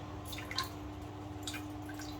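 Whey drips steadily from freshly drained paneer gathered in a muslin cloth, a few soft, close drops against a quiet kitchen background with a faint steady hum.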